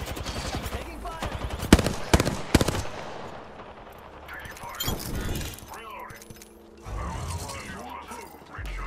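Apex Legends gunfire: a cluster of loud, sharp shots and rapid bursts crack close by, followed by quieter scattered fire and glass-like shattering. Voices call out over the game audio.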